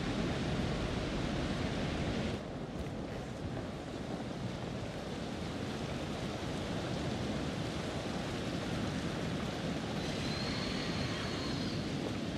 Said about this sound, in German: Da war der Wind.